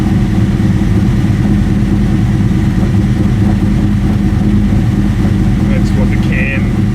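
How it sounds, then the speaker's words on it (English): A Ford Falcon coupe's 351 Cleveland V8 idles steadily near 1000 RPM, a loud continuous low rumble throughout, with someone talking over it. "So what I'm going to do is change the idle now to 1000 RPM."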